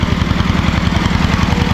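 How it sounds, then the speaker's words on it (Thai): A water well drilling machine runs loudly at a Thai village borehole site, its heavy engine chugging in a steady, fast rhythmic pulse, close and continuous without voices. "ทางเพิ่นเจาะเสียงโตๆๆอยู่พี่น้องเสียงดัง"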